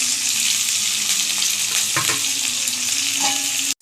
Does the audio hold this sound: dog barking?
no